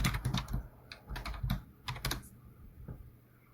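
Quick clusters of clicking keystrokes on a computer keyboard as code is typed, close and crisp, trailing off into quiet near the end.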